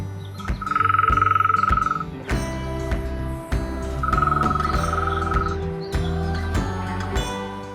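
Green woodpecker giving a loud, laughing call, two ringing bursts of rapid repeated notes carrying across open countryside, with other background birds and rustling between them.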